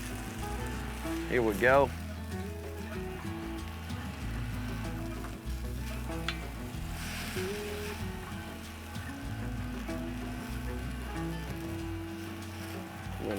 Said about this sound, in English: That wok, y'all, it's super hot, as you can hear.